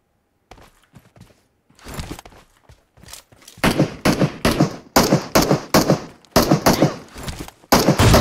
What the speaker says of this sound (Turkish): Bunlar silah sesini duymuyor.